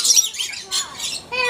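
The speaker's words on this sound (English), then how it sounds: "come look at the birds over here" Birds at Riverbanks Zoo chirp and squawk in quick, bright bursts that come and go close by, with short gaps between calls.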